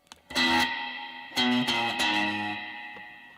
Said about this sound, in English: this is what it sounds like with the altiverb spring reverb added in